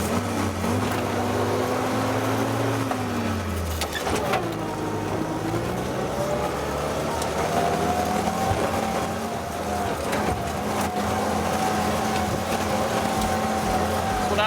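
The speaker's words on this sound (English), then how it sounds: "You ready for a four-wheel drive launch?" A 1942 Willys Ford GPW launching in four-wheel drive, its engine droning steadily and close, with a brief drop then rising pitch as it pulls away.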